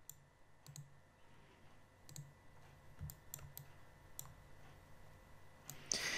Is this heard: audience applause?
no